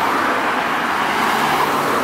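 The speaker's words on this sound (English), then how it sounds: "a very intensive traffic here" Dense, steady road traffic near a parking lot on the road from Brasov to Poiana Brasov, with loud continuous engine and tire rumble and no pauses.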